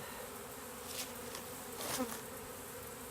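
Honeybee swarm buzzing steadily while being hived into a tall hive, a dense continuous drone close by with brief swells in loudness, no talking.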